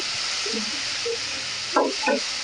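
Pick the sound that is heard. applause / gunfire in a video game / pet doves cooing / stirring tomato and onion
stirring tomato and onion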